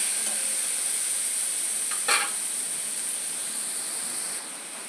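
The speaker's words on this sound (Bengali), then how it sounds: "এরপর আমি এর মধ্যে পেঁয়াজ কুচিগুলো দিয়ে দেবো" Chopped onions sizzle in hot oil over a chilli and cumin tempering, a steady bright hiss of frying that stays even throughout, with one brief scrape or stir near the middle.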